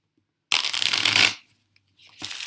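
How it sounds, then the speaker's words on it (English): A deck of cards shuffled up close in one loud riffle lasting under a second, followed by quiet and then the start of another shuffle. "I'll shuffle it, and then I'll pull a card"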